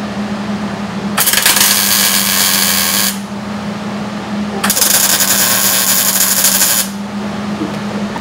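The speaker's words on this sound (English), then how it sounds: "So all I'm going to do is just do two little tacks right here just" Two bursts of tack welding on a wagon frame on a welding table, each a loud steady crackling buzz lasting about two seconds, separated by a low electrical hum.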